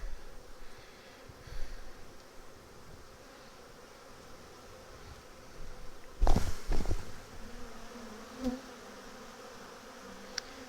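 Honey bees drone in a constant, dense buzz during a hive inspection, close and continuous, with a few louder rustles and handling knocks from the frames partway through.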